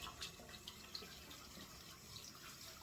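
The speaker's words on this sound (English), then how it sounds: "I'm going to turn on the hot water" Hot water runs from a bathroom sink tap in a steady, faint splashing stream.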